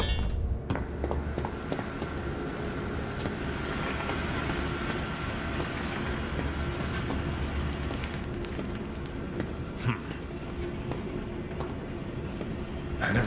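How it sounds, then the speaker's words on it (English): A gadget trolley rolls along rails in the Zoochosis video game, a steady rumbling run with faint clanks and ticks throughout, loud and continuous without any talking. "Now activate the lever to lower the gadget trolley. Now drag the trolley to the gates."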